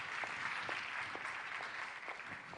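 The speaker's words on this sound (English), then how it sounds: "Please welcome with applause." Steady applause from a business forum audience welcoming a speaker onto the stage, a dense even wash of clapping that holds at a constant level throughout.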